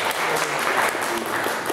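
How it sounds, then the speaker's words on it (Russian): Applause from a church congregation: dense, steady clapping from a crowd that fills the whole short moment at an even, lively level. "аплодисменты за чудесные слова"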